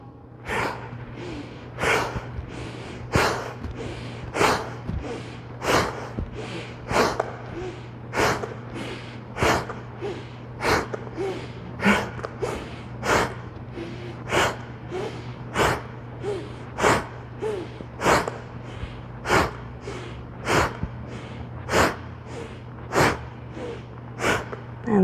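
During fast cat-cow yoga, sharp rhythmic breaths come about every second in an even, forceful pulse of quick nasal exhales, close and steady over a low constant hum.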